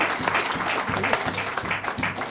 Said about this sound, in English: Big round of applause for the staff here.